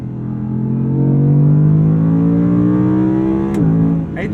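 An Audi R8's V10 engine revs hard from inside the cabin, a loud, rising howl climbing steadily in pitch before dropping off sharply at a gear change.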